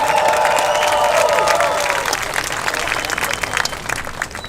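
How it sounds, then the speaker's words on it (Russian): A crowd claps and cheers loudly, dense applause with a few whistles and shouts that gradually thins out into scattered clapping. "здесь должны быть громкие аплодисменты"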